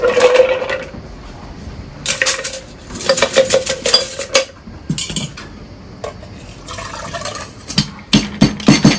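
Cocktail shaken hard in a metal shaker at a Dry Martini bar in Sorrento, ice rattling in several loud rhythmic bursts with short pauses between them.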